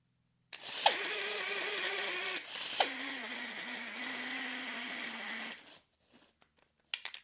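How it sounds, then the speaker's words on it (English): A Klein auto-retracting chalk line reels in 50 feet of line under its motor, giving a steady close whir for about five seconds with two sharp clicks. The whir then stops abruptly and a few faint taps follow. "I'm going to press the button and suck it all in real time so you can see the speed"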